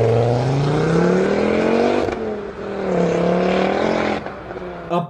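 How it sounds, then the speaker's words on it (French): An Audi RS3's 2.5-litre turbocharged five-cylinder engine revs loud and close, pitch rising and falling through several sweeps, then cutting off abruptly near the end. "pur moteur Audi 2 litres 5 dérivé du rallye de l'époque."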